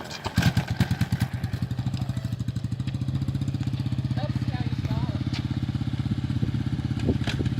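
A dirt bike engine catches and runs during a bump start, a loud, steady rapid putter with rhythmic firing pulses throughout, some clatter and a brief rev near the end, with faint voices in the background.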